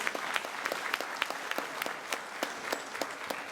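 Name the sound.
audience applause at a school gala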